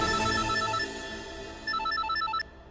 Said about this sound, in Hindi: देखो किसका फोन आ रहा है।